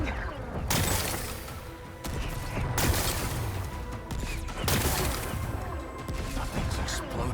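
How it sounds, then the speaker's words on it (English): Rocks are blasted apart in Horizon Forbidden West, three heavy crashing impacts with shattering debris and rumble spaced a couple of seconds apart, close and loud, with a voice speaking over it. "Gotta blast away some rocks so I can expose the power cell."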